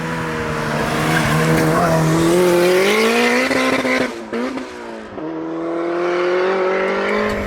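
A turbocharged Mini with a VTEC engine and 370 brake horsepower roars at high revs while tires squeal loudly, the pitch climbing and dropping as it accelerates and shifts, close and continuous.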